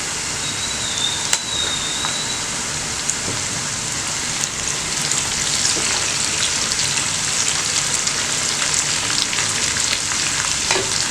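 Green chillies and onions fry in a pan with a continuous close crackling sizzle, dense and even throughout, with occasional sharper pops and a brief clink near the start.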